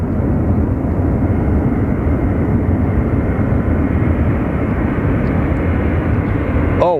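A Boeing 737 MAX runs an engine test at an airport, a steady, loud, broadband roar that holds unchanged throughout from a moderate distance.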